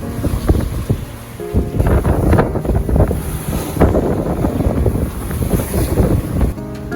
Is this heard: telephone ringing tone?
no